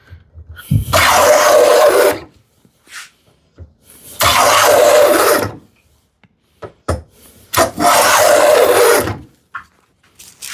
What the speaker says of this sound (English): Let me try to get a end-to-end shaving